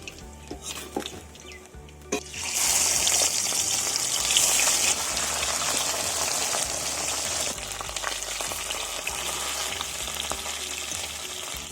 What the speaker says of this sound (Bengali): এইভাবে আরও যে মাছগুলো রয়েছে সেইগুলোকেও ভেজে নেব।